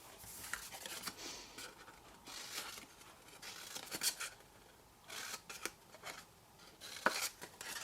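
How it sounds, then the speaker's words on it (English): Scissors snipping through material while a treat bag is made, quiet close-up cuts in short irregular bursts with faint rustling between them and no voices. "Let me grab my scissors."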